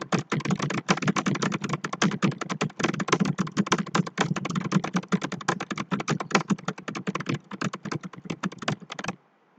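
Continuous fast typing on a computer keyboard, dense rapid key clicks at steady loudness for about nine seconds, close and dry, then stopping abruptly; no voices.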